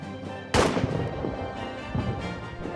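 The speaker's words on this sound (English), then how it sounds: "The thunder of the cannons comes from our side, Herr Officer. Our own artillery is shooting at us." Artillery fire on the battlefield of All Quiet in the Trenches, with one sudden loud cannon blast followed by a rumbling, rolling tail and fainter distant thuds.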